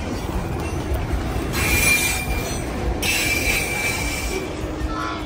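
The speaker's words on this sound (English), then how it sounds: "The train does eventually arrive," A train pulling into a station, loud and close, with steady rumbling wheels and high metallic wheel squeals rising and fading over a continuous roar.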